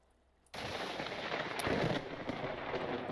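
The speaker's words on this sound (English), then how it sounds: "Did you hear that thunder?" Thunder in the Vintage Story survival game hits with a sudden loud crack, then rolls into a sustained, broad rumble that swells for a couple of seconds, heard alone without voices.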